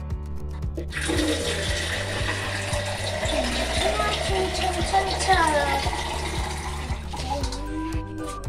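Water pours steadily into a planting pit packed with soil and cow dung for an orange tree, a continuous rushing splash lasting several seconds, with a low rhythmic hum and faint talk underneath.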